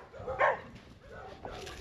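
A dog on a street in the Sutiava barrio of Nicaragua gives a single short, sharp bark near the start, followed by softer yips and faint street noise.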